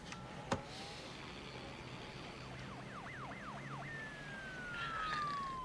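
A police siren wails in the distance, faint at first, then its rapid warbling rises and shifts into a steady falling tone, set against quiet low background hum with a single brief knock early on.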